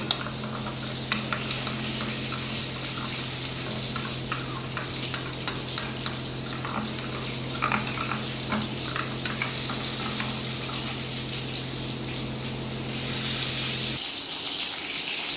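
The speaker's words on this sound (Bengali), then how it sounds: "দেখুন আমার পটলগুলো লাল করে ভাজা হয়ে গেছে" Pointed gourd (potol) pieces fry in oil in a pan for prawn potol pasanda, a steady close sizzle with stirring clicks throughout, no talk, cutting off near the end.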